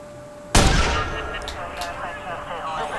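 A sudden loud burst of gunfire in the video game Watch Dogs erupts and then decays into a lingering noisy rumble, with a faint steady tone underneath and no talk.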